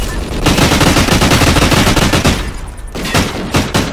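Gunshots in a competitive video game match: loud, close automatic fire in a long sustained burst, followed by a few shorter separate bursts near the end, with no clear talk.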